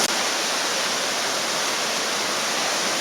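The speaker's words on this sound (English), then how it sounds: "There's serious water coming in, waving through and everything like that." Sea water surges into rocky tide pools on a beach, giving a loud, steady, broad rush of churning water with no break and no voices.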